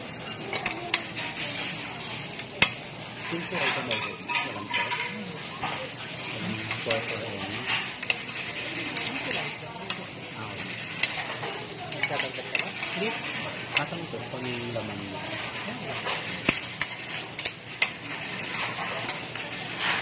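Kimchi rice cooking on a restaurant griddle at Dohtonbori, with a steady sizzle and scraping spatula strokes running throughout beneath ongoing conversation and background chatter.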